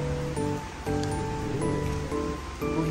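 Sudden rain falls in Tagaytay, a steady, even wash of drops pattering around, with a faint tonal hum sitting underneath throughout and no talking.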